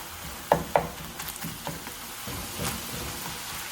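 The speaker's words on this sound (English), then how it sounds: "while our meat is cooking" Ground beef fries in a pan with a soft, continuous sizzle, punctuated by a few sharp utensil scrapes and taps against the pan.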